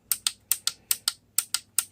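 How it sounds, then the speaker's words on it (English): Trigger on a Transformers Classics Megatron toy gun, giving sharp plastic clicks in quick pairs, about ten in all, close and dry against a quiet background. "Makes a clicking sound when you pull it"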